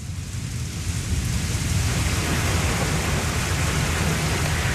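Steady heavy rain falling with a deep rumbling low end, likely thunder, sustained and loud without any speech.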